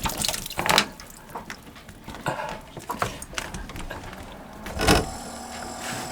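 Water gushing from a just-unclogged boat engine cooling intake, splashing in irregular surges with a louder burst near the end, close by and without talk.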